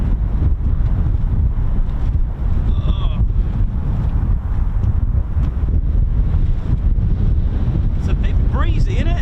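Strong gusts buffet the microphone at RAF Lakenheath, an outdoor airfield, making a loud, constant rumbling roar, with faint voices and a few brief chirps mixed in.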